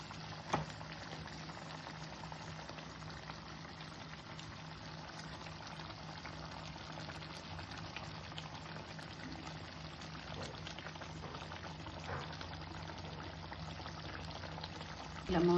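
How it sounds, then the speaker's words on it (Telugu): Gravy with stuffed tomatoes simmers in a pot, giving a steady, close bubbling and boiling texture that stays even throughout, with a faint voice now and then. "ఈ గ్రేవీ ఉడుకుతోంది, ఇందులో ఇలాగా ఇలా పెట్టుకుందాం టమాటాలు."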